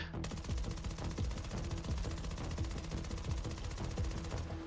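A machine gun in the video game Battlefield 2042 fires one long, loud burst of rapid, evenly spaced shots with no pauses.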